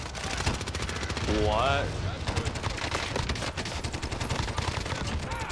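Rapid automatic gunfire in a video game rattles steadily from start to finish, close and loud. A brief exclamation from a voice cuts in partway through.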